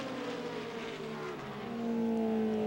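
A NASCAR Craftsman Truck Series race truck engine at New Hampshire, a steady droning roar with the pitch settling lower, then the truck easing back onto the throttle and swelling slightly louder near the end.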